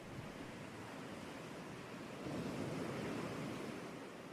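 Video game beach ambience of ocean waves washing onto the shore, a steady broadband wash that swells slightly midway, with no voices.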